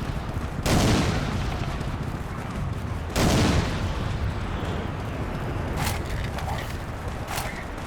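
Two heavy explosive blasts with rumbling tails from a rocket launcher in the shooter game World War Zero (Iron Storm), the second about two and a half seconds after the first, over steady battle noise and a few later sharp cracks.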